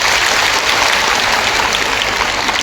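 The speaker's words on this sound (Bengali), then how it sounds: "একটা জোর হাততালি হোক তাদের জন্য" Strong, steady applause for the ICDS team at a government women and child development and social welfare event: dense, continuous clapping from a large crowd, evenly loud throughout with no voices over it.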